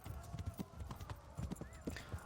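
A horse clip-clops along at a steady riding pace in the video game Kingdom Come: Deliverance II, regular rhythmic hoofbeats heard up close and fairly quiet.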